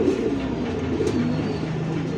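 A pigeon offered for sale at a bird market coos low and soft. The murmuring calls run steadily through a noisy background, and no one speaks.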